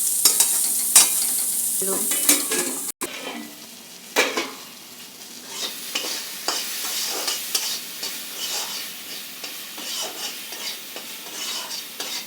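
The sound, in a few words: frying pumpkin seed fritters in a covered pan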